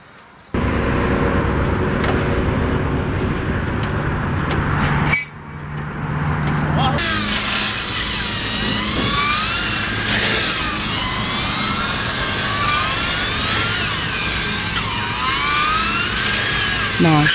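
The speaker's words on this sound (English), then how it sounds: "It's a 30-foot truss being lifted by a towable man lift" A towable man lift's engine drones steadily and close while hoisting a 30-foot steel truss at a 20x40x12 pole barn build. It dips briefly partway through, then resumes with shifting high whining tones layered over the engine hum.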